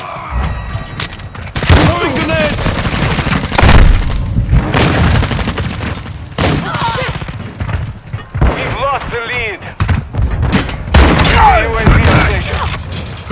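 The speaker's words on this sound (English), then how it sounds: "Throwing grenade." A grenade thrown and exploding in Call of Duty: Modern Warfare II, with heavy booms and thuds mixed into dense gunfire bursts and radio-style character voices, loud and close throughout.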